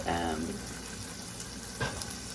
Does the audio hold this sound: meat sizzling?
yes